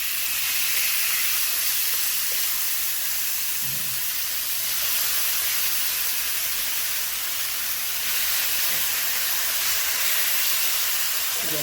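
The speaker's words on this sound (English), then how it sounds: "Now we're going to place the meat in the frying pan. Let that cook and sizzle real nice." Garlic and herb steak sizzles in a hot frying pan, a steady, bright hiss of fat and juices spitting close up, continuous and loud for the whole stretch, with no voices.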